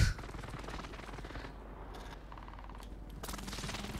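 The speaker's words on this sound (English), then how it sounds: "I'm camping in a bush with an MG42." An MG42 machine gun fires in a video game, sustained rapid bursts of automatic fire rattling continuously at moderate loudness, with short pauses between volleys.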